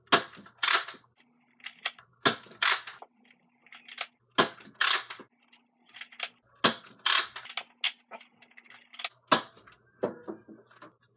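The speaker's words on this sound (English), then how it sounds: "Now firing yellow X-shot darts." A Nerf Modulus Ionfire blaster fires yellow X-Shot foam darts one after another, with sharp close pops in an uneven rhythm and a faint motor hum between some shots.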